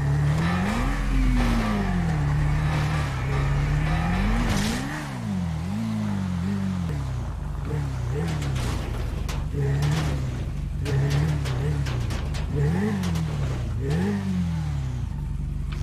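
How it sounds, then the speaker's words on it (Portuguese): A car engine revs nearby in a GTA roleplay game, its pitch rising and falling repeatedly through steady acceleration bursts, loud and continuous, with someone talking intermittently over it. "Tem um carro aqui perto acelerando meu ouvido faz hora"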